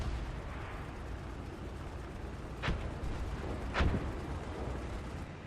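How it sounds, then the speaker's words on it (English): Enemy aircraft strafing in War Thunder, heard as two sharp bursts of gunfire about a second apart over a steady roar of battlefield noise, with no talking. "Then you could hear an enemy aircraft coming in, and we start getting strafed."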